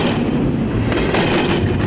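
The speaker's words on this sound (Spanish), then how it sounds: "La línea de trenes de carga conocida como La Bestia sería su vehículo" Freight train known as La Bestia rolling along the rails in Central America and Mexico, giving a loud, continuous rumble and rattle of cars with a faint clatter of wheels, heard close and without talk.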